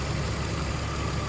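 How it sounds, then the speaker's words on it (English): A rebuilt M54 engine in a BMW E46 idles smoothly, giving a steady, even low hum with no knocking and no one talking. "You can hardly hear the engine idling. No knocking or nothing."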